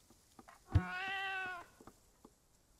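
A cat meows once in a medieval video game, a single clear, drawn-out cry standing out over faint background sounds.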